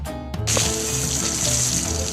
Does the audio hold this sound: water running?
yes